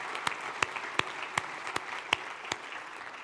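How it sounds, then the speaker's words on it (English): A small audience at a technology policy event applauds a senator, giving scattered, fairly quiet clapping in which a few sharp individual claps stand out over a soft continuous patter. "let's give Senator Heitkamp a round of applause."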